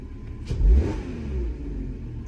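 A car engine revs briefly as the throttle pedal is pressed, one short swell of low engine noise over a steady idle.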